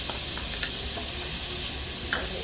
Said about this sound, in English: going to add the garlic to it. Let it cook in there kind of medium.